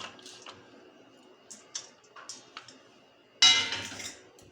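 Metal utensils clinking against a pot as boiled shengole are lifted out in a home kitchen, a few light, sparse taps and clinks followed by one louder clatter near the end.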